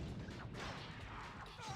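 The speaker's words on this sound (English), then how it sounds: "there is just the explosion sound going on at full volume at all times during this level" Constant explosion noise in the Blade II video game, a dense rumbling barrage of crashing blasts that never lets up, loud and continuous throughout.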